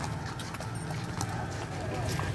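Racehorses with jockeys walk out onto the track at Dai Nam racecourse for the 30/4 horse races, their hooves giving a steady, soft clip-clop beneath a constant wash of crowd and outdoor noise, with people talking.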